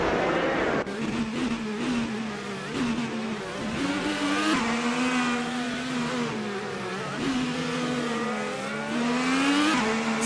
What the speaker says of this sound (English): Bot Technasty is in 8th place driving a 2018 Chevrolet IndyCar.